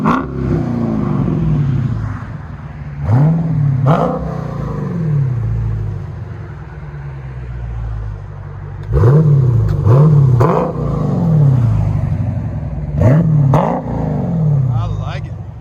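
A 2021 Dodge Challenger Scat Pack with a 6.4L V8 and Dynomax Bullet exhaust idles with a deep, throaty rumble, broken by several sharp, close revs that come in pairs and threes.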